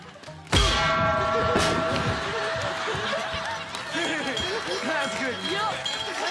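A Liberty Bell strikes during a Mario Party video game, giving one bright, ringing metallic clang that hangs and decays over excited chatter and laughter from players.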